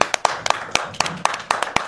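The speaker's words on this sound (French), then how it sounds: "je leur demande de les applaudir pour voir ce qu'ils font" An audience at a press conference claps in short, crisp bursts of a few hands at a time, a sparse and uneven pattern of close, dry claps rather than a full ovation.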